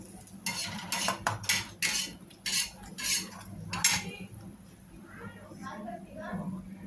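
Fried brinjal slices being lifted out of a pan with a metal utensil, giving a string of loud scraping clinks and taps against the pan over a soft leftover sizzle, with someone talking between them.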